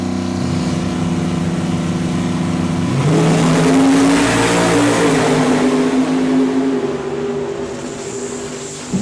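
Two Top Sportsman drag racing cars launch from the start line at a drag strip; a loud, sustained engine roar swells and rises in pitch as they pull away, with no talking.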